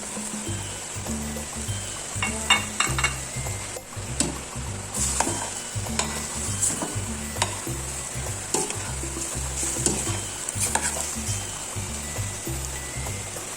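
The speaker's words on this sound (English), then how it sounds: "you can now add your carrots. You can also start adding your mushrooms at this point." Beef, carrots and mushrooms stir-fried for Filipino-style spaghetti sauce, a steady close sizzle with repeated scraping and clacking of a utensil against the pan throughout, no talking.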